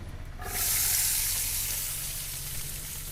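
Small onions sizzle and fry loudly in a hot pan, a steady close crackling hiss that swells suddenly as they go in and then holds on without any talk.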